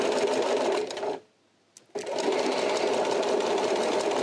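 Sewing machine stitching through several layers of a coin purse seam, running loud and steady, halting briefly for under a second, then resuming its continuous whir.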